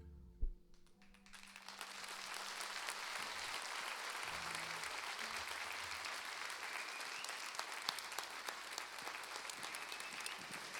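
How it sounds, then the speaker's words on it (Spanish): An audience breaks into warm, sustained applause after a singer's performance. The clapping rises after a brief quiet start and holds at a steady full level. "Fuerte el aplauso para Ángel."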